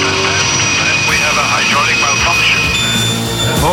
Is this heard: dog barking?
no